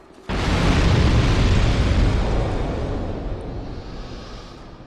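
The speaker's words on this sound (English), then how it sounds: "Those exploding barrels are actually quite common throughout the Lost Bastille" An exploding barrel in Dark Souls 2, a video game, set in the Lost Bastille, goes off in one sudden loud boom that rumbles on and slowly fades over several seconds.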